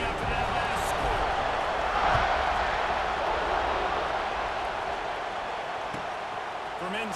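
A packed stadium crowd at a college football game, Georgia versus South Carolina, roars in a steady, dense wash of noise, loud and continuous throughout.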